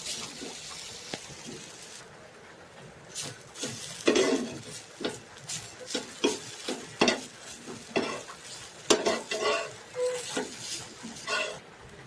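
Semolina being stirred in a pan with a lid, a spoon scraping in repeated uneven strokes over a faint background sizzle, close and fairly quiet with no talking.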